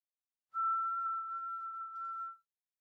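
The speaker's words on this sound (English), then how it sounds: "And so when you're whistling, and I'll go ahead and do a quick whistle right here." A single steady whistled tone from a person whistling into a microphone, held for about two seconds in near silence.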